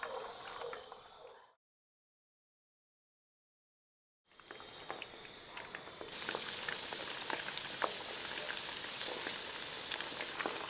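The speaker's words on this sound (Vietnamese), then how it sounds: "mình cho sườn vào chiên lần thứ hai với lửa trên trung bình một chút" Pork ribs fry in hot oil for a second time over medium-high heat with a steady, soft sizzling crackle. A brief silent gap comes early, then the frying grows slightly louder and continues evenly.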